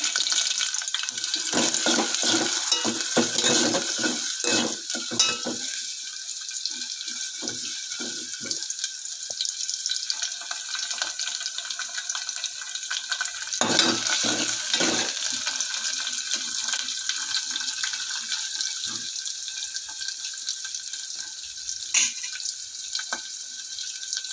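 Green chillies and onions fry in hot oil in a pan with a steady, loud sizzle throughout, while a spoon stirs the pan in short scraping bursts near the start and again midway.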